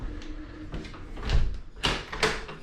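The front door of a 1921 house under renovation clunks and rattles as it is handled, with a few knocks and a firmer thump or two, close by, with no talking.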